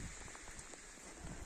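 Steady rain patters on a surface nearby on a farm, a constant hiss with scattered drops and no voices.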